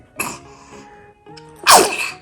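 A baby sneezes during a first feeding of oatmeal: a small burst comes first, then a louder, sharper sneeze close to the mic, with quiet tones in between.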